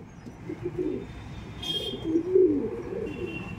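Madras pigeons coo in a few soft, throaty phrases nearby, with a brief burst of noise in between and quiet background hiss.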